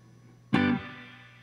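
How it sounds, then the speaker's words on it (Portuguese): Electric guitar strummed once with a short reverb, a bright chord that rings briefly and then fades into a short, dry tail. "Só que o meu reverb curto é esse."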